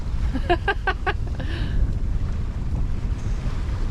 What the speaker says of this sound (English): You can only hear the waves hitting the boat.